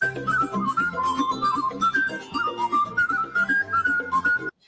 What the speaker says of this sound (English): I don't like the whistling and the drums.